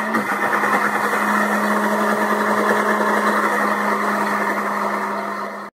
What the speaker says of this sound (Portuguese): Tudo no liquidificador.